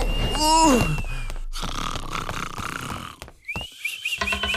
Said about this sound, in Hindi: ये बाल्टी बॉय अभी तक खर्राटे भर रहा है